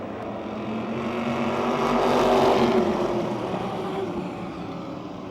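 Modified race cars roar off together at the start of an eight-lap heat race at Motordrome Speedway. The massed engine drone is loud and continuous, swelling as the pack passes and then easing slightly.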